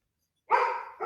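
A dog barks loudly and close by, a sustained bark followed by a second one starting right after a brief pause.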